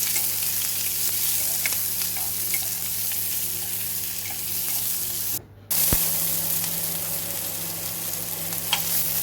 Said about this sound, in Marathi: टमाट बरे भाजून मऊ जावंक जाय।